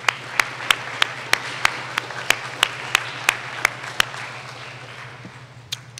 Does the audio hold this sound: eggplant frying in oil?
no